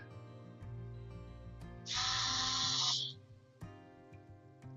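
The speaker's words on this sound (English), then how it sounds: "Much faster with power tools." A power drill drives screws while a 3D printer frame is assembled, giving a steady low motor whine that jumps to a loud high-pitched whir for about a second, then winds down, with clicks and knocks between.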